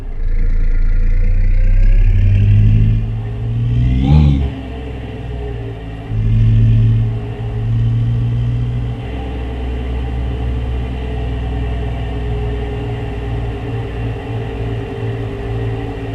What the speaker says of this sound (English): so you can see and listen to the sound of this engine